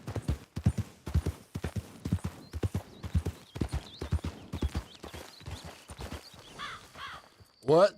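Horse hooves clip-clop in a steady walking rhythm within a ranch roleplay video game, each strike distinct and fairly close, ending with a short whinny-like sound.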